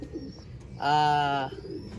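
A single drawn-out pigeon coo, close and clear, rising out of quiet background noise and fading after about a second.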